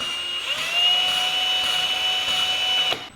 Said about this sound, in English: here I have my drill chucked up onto the stem of the valve